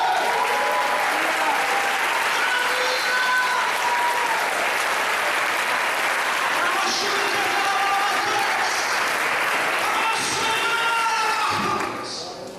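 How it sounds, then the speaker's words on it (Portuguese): A church congregation applauds loudly and continuously for about twelve seconds, with voices mixed into the clapping before it tapers off at the end. "Aplauda o Senhor!"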